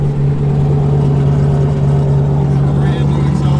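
A BMW E36 race car fitted with wastegates runs with a loud, steady, droning engine note at close range, holding a constant hum with faint higher whines and no talking.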